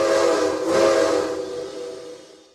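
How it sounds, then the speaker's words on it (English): A loud, aggressive steam train whistle in a video game, mixed and pitch-shifted from a Lunkenheimer 3 chime and an Alco 3 whistle, sounds as one sustained hissing blast that swells and then fades out. "mixing and screwing with the pitches of a Lunkenheimer 3 and an Alco 3 gave me this freaking aggressive sounding whistle"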